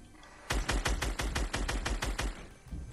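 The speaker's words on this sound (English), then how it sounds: "I hear gunshots." Rapid burst of about a dozen loud gunshots in a steady automatic rhythm, close and sharp, followed by a short pause and a softer final shot, with no talking.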